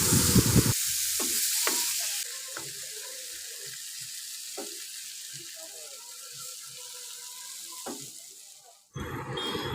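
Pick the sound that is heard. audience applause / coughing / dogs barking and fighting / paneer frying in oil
paneer frying in oil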